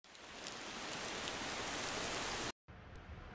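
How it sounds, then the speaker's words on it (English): Steady rain sound effect layered over thunder in a 174 BPM future bass production, a dense, even hiss of falling rain that breaks off briefly near the end before resuming, with no voices. "Layer that with some rain."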